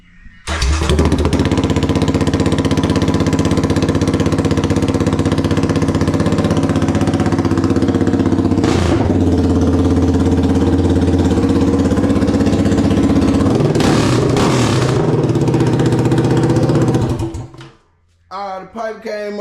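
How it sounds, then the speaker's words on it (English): A Yamaha Raptor 700R ATV with a straight pipe exhaust and no muffler starts cold and then runs loud and close for about seventeen seconds, with a brief blip partway through, before cutting off abruptly. "I'm finna get y'all a little cold start of it with just the straight pipe."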